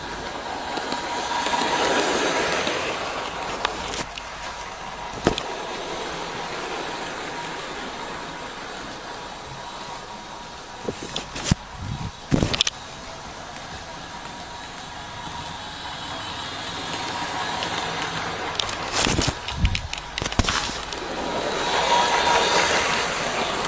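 A Bachmann BR Class 108 DMU model train running along model rails, a steady soft whirring and rumble that swells and fades as it passes, punctuated by a few sharp clicks and knocks at rail joints, with no talking.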